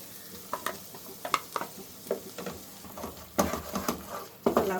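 Onions, tomato, ginger, garlic and green chili are sautéed for a cauliflower peas masala, giving a faint low sizzle broken by scattered scrapes and taps of stirring.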